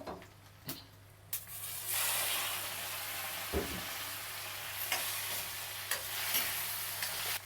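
Chopped tomatoes added to fried onions sizzle in a pan for a canned-fish curry, a constant close hiss broken by several sharp scraping strokes of a spoon stirring, with no talking.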